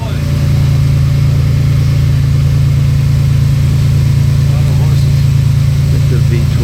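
A V12 engine combining Mercedes and Porsche parts runs with a loud, constant low drone and a steady, unchanging pitch throughout.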